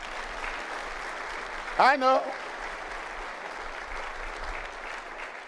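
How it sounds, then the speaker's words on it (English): Steady round of applause fills a university convocation hall, even and sustained throughout, with one brief spoken remark cutting through the middle. "Round of applause."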